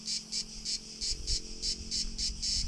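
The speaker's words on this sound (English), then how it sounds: "There's some really loud bugs." Loud insects in trees, droning in a fast pulsing rhythm of regular shrill bursts roughly every quarter second, continuous and close, with low rumbling noise underneath.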